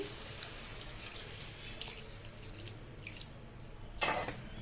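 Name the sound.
water poured into cooking pot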